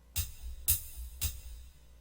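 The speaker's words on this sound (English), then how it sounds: "so if I play this" A cymbal is struck three times at an even, slow pulse, each hit a bright splash that fades quickly, heard faint and alone.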